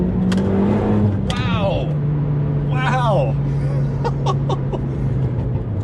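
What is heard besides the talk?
Renault Megane R.S. Trophy R car with Akrapovic exhaust revving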